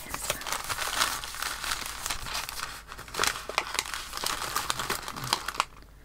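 A gift bag from a parcel of happy mail crinkles and rustles as it is handled up close, in a run of irregular crackly bursts that stop abruptly near the end; no one speaks.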